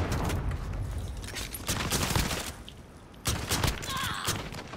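Sustained bursts of gunfire from several teams fighting in a battle royale game, dense automatic fire with booming shots, loud and continuous with brief lulls, no talk.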